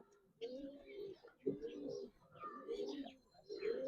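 Coloring Giribaz pigeons at a pigeon farm coo in repeated soft, throaty bursts close by, with light chirps and faint background noise between the calls.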